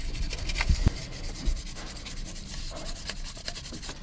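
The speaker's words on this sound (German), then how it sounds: "mit einem ganz feinen Schleifpapier dann einmal die Dichtfläche abschleifen" Fine sandpaper rubs back and forth across the metal valve cover sealing surface of an Audi S3 8P 2.0 TFSI cylinder head in short, close strokes, with a few light knocks at the start.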